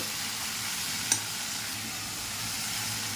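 Banana flower curry is stirred in a pan, an even, close frying sizzle running throughout with a single brief utensil tap near the middle and no talking.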